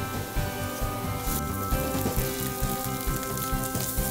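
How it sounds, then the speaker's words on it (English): Onion and chili dropped into hot oil in a pan for veg momo filling, giving a steady, close, dense sizzle with crackling and small pops throughout, no voices over it. "I'm going to add my onion."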